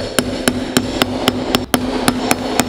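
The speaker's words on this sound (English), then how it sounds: "An impact driver is essentially a screwdriver that you can hit with a hammer to expel a lot of force to open these guys up." A hammer strikes an impact driver to loosen screws during Subaru WRX STI engine work: about ten sharp metallic blows at a steady, quick rhythm, close and loud over a constant low hum.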